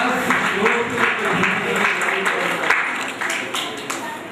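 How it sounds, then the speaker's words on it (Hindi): Audience clapping at a seminar in India, a steady mass of applause from many hands mixed with voices and crowd murmur throughout. "तालियां बजाओ।"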